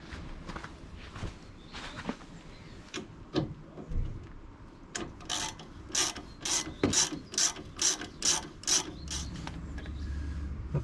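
Hand ratchet working on the nuts of an Abarth 595 Competizione's front suspension, a close run of quick clicking strokes in a steady rhythm with a few clunks and scrapes before it.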